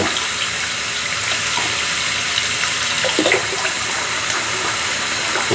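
Steady, loud running water from a sink tap while someone rinses their face after a lavender and sage shave, a continuous close splashing gush with no talking.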